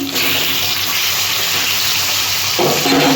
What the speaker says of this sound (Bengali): মাছগুলো আমি এবার উল্টে দিচ্ছি এক পিঠ ভাজা হয়ে গেছে আর এক পিঠ ভাজার জন্য উল্টে দিচ্ছি